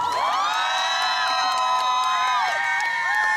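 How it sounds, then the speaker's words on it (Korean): A concert audience erupts in loud, sustained cheering with high shrieks and whoops sliding over scattered clapping, a dense crowd roar filling the whole stretch. "여러분 큰 박수 부탁드립니다"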